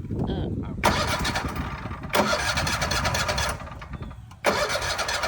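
A zero turn lawnmower's engine is cranked repeatedly, three loud bursts of starter churning separated by short pauses, with voices talking nearby.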